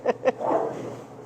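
Dogs at home give two quick sharp barks close by, followed by a short whiny yip trailing off into quiet.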